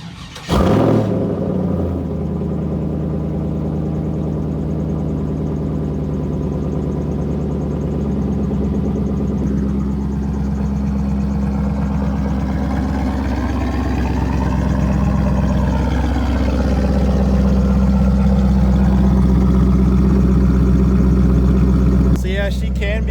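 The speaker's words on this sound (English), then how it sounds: "might as well give you guys a cold start while it is still cold." A car engine fires with a sharp burst at cold start, then settles into a steady, loud, rumbling idle that holds close by throughout, with a person talking over it.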